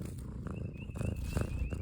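A cat purrs in a low, steady rumble, close and continuous, over soft background noise with a faint high tone running through.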